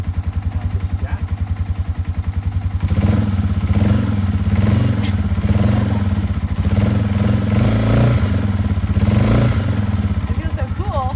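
A Yamaha TW200 dual sport motorcycle engine starts up and settles into a loud, steady close-range idle with rhythmic thumping and a few revs, under occasional talk.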